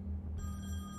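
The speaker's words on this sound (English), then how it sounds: "I thought that was my phone ringing for a minute." A telephone in The Wolf Among Us game begins ringing partway through, a thin electronic trill over a low steady hum, faint and brief.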